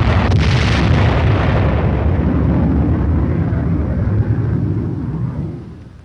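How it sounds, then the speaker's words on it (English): Aircraft drop general purpose bombs on armored combat targets, and a loud, sustained roar of explosions rumbles for several seconds before slowly fading, with no voices. "Once they are spotted, the first flight drops general purpose bombs."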